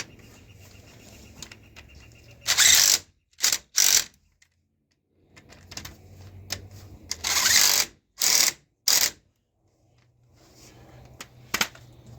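A ratchet tightens a brake caliper bolt on a 2008 Ford F-150. It comes as several short, loud bursts of rapid clicking, separated by quiet pauses, close to the listener.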